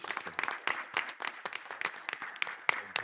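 Applause at a Board of Education meeting for a newly approved Director of Special Projects and Grants, a small room of people clapping in sparse, uneven bursts, close and moderately loud.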